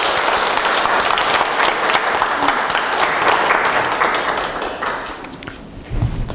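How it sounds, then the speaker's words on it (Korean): Steady, dense applause from a lecture audience at a Korean humanities talk, loud and sustained for several seconds before tapering off near the end. "박수 하시겠습니다"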